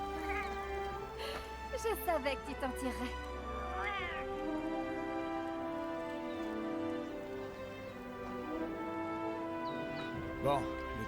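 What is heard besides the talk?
cat meowing in a video game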